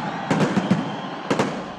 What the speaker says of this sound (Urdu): شاندار آتش بازی سے آسمان روشن ہو گیا۔